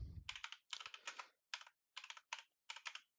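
Rapid bursts of keystrokes on a computer keyboard, close and crisp, arriving in short clusters separated by brief pauses, with no voices.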